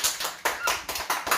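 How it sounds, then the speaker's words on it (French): Audience clapping at a princes-and-princesses presentation event, made of close, sharp bursts of hands coming in quick uneven waves of a few claps each. "Applaudissez s'il vous plaît"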